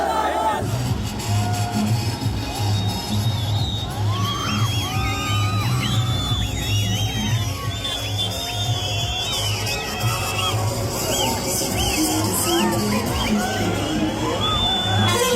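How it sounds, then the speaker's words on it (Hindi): Dense crowd noise at an outdoor political rally for an independent MLA candidate in Udhampur West, with shouts, whoops and cheering voices sustained loudly throughout, while a voice speaks over the din. "तालियों ने इनका स्वागत करना"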